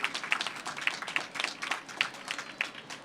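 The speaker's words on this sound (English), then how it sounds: "Let's give them another round of applause." Steady applause from a crowd, many hands clapping in a dense crackle with a few sharper claps standing out, continuing without pause.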